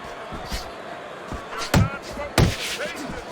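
Punches land in a simulated Fight Night Champion boxing bout, with a few sharp thuds scattered over steady arena crowd noise while a commentator talks throughout.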